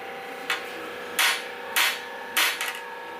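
A Mazda rotary engine oil injector is knocked on its side against a hard surface, giving four close, bright metallic taps at irregular intervals, the last followed by a quick smaller rebound tap, with no talking.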